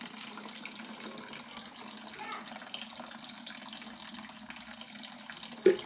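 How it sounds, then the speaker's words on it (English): Water spilling from a plastic bottle into a container in a homemade pump setup, a steady trickling splash that runs continuously at moderate level with no talk. "this plastic bottle is spilling"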